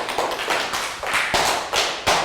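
A small group in a classroom gives a short round of applause for a maths lesson, with loose, uneven hand claps that come close and fairly loud for about two seconds.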